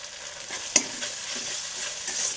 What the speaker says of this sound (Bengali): ওই তেলের মধ্যে তেজপাতা, গোটা জিরে, শুকনো লঙ্কা ফোড়ন দিয়ে দেবো